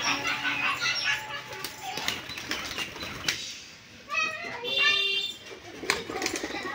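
Giribaz pigeons flutter and flap their wings as they land and play on the ground, a busy mix of wingbeats and scuffling with chirpy bird calls, while a person talks nearby.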